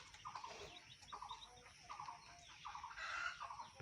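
Young chicks chirping in a rural Assamese setting, a series of short, thin peeping calls in small bursts over a steady background hiss, fairly quiet and close.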